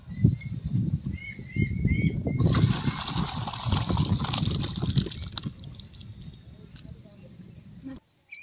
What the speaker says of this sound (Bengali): দেখুন ঝোলগুলো ফুটিয়ে নিয়েছি, এবার মাছগুলো সব দিয়ে দেবো